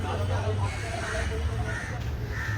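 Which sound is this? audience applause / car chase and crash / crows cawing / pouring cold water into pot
crows cawing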